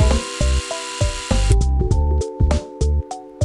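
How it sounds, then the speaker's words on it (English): A drill at work in the Urban City Stories game, loud and near. A steady high whine gives way to a run of regular rhythmic mechanical pulses, with no voices. "Drilling and drilling."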